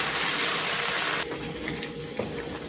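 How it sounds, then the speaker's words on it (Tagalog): Chicken broth from boiled chicken breast pours into a pan of sotanghon with carrots and baby beans, a steady loud gushing stream that cuts off sharply partway, leaving a quieter pan hiss. "Ibubuhos ko na dito itong chicken broth."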